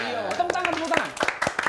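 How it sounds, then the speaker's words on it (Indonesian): Scattered hand claps ring out alongside lively talking and cheering voices, sharp and close, in a loose uneven rhythm. "Tepuk tangan."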